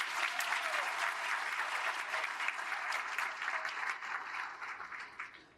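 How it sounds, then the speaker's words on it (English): Banquet audience at a Black Achievers ceremony giving sustained applause, a steady wash of clapping from a large room that gradually fades toward the end. "Let's all give them a big round of applause."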